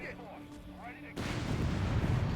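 In Company of Heroes 3 urban fighting, a burst of 30 cal machine gun and mortar fire breaks out suddenly partway through, loud and dense after a quieter stretch.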